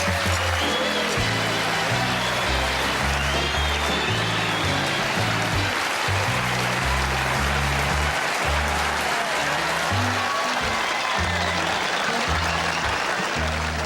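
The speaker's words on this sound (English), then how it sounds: "Please clap." An audience applauds a guest, Matt Scoopslurk, captain of the St. Louis Unions, as he joins a show; steady broadband clapping runs for about fourteen seconds with a low rumbling hum underneath and no clear speech.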